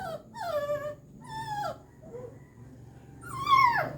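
A puppy whimpers in three high, wavering, whiny cries, each rising and falling in pitch, separated by short quiet gaps, close and fairly clear against a faint background hum.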